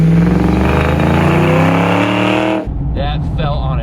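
A Ford Fox Body convertible with a swapped 306 engine running rough, a loud sustained rev that abruptly cuts out and stumbles, then a weaker sputtering idle, close up.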